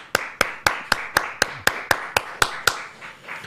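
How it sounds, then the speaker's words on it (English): Claps ring out in a studio during a morning radio show, about a dozen sharp, evenly spaced strikes in a steady rhythm, loud and close, with no talk over them. "Round of applause around the room."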